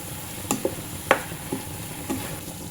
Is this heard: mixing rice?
yes